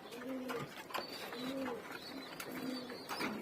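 Kaldum pigeons coo in a close, loud loft, with repeated rolling calls coming in a steady rhythm of several coos over a few seconds.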